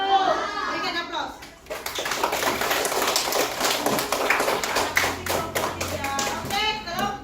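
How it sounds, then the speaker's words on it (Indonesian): Schoolchildren in a classroom break into applause, a burst of many small hands clapping quickly for several seconds, with children's voices speaking before and after. "Berikan aplaus."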